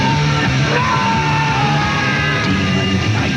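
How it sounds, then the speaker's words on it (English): Screaming and yelling in a horror movie trailer, a loud, continuous wall of shrill cries and bellowing voices with no pause. "Now you can scream."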